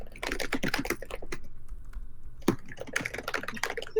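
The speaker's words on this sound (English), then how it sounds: "As you all see me typing like this because my computer's so far away." Computer keyboard typing up close: quick clusters of clicking keystrokes, a short lull in the middle, then another rapid burst of keys.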